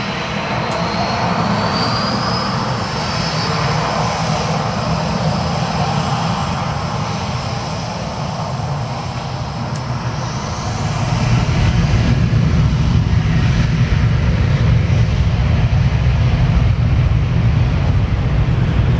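A Qantas airliner rolls along the runway at Gold Coast Airport, its jet engines giving a loud, steady roar with a high whine that swells further as it passes close by, with no talking.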